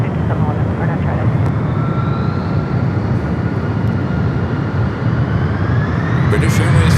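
A British Airways passenger jet at San Francisco airport gives a loud, sustained engine roar with a faint rising whine, while people talk over it near the microphone.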